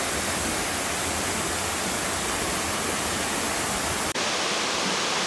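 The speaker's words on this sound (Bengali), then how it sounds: "আলহামদুলিল্লাহ অবশেষে সেই কুমারী ঝর্ণার দেখা মিলল" The Kumari waterfall, deep in the remote Bandarban hills beyond Thanchi, gives a dense, steady roar of falling water that fills the whole clip; its tone shifts abruptly near the end.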